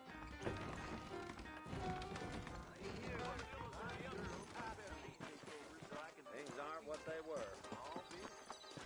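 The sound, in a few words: horse hooves clip-clopping, from video game Red Dead Redemption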